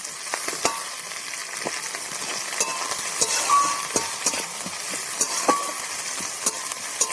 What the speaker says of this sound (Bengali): ভালো করে এটা লাল লাল করে ভেজে নেবো।